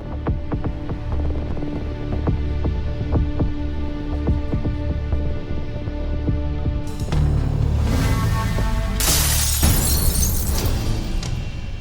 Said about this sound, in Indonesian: Siapa yang mecahin kaca jendela rumahku ya?